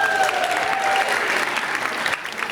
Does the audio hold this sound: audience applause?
yes